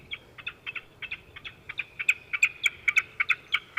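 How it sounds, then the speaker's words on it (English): A bird scaring device at Edinburgh Airport emits a rapid series of sharp, repeated electronic chirping calls, steady in rhythm and growing louder toward the end, with no talking over it. "This is the latest sounds in bird scaring."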